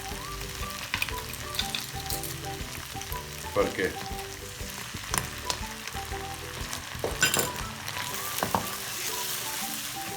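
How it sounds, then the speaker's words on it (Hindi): Garlic ginger paste fries in butter with onions in a pan, a steady, close sizzle with intermittent stirring scrapes and clatters, and a brief voice speaking over it. "लहसुन अदरक का पेस्ट डाल के मैंने 2 मिनट से इसको भुना।"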